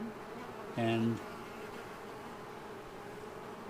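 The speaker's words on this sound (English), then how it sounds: "bees that are still flying around out here, they're coming back from being out on scouting missions" Honey bees from a captured swarm buzz around the hive outdoors, a faint steady hum with one louder bee droning briefly past close by; a short spoken word is heard.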